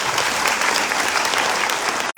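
A seminar crowd of a network marketing company claps loudly and densely, a brief full burst that cuts off abruptly at the end.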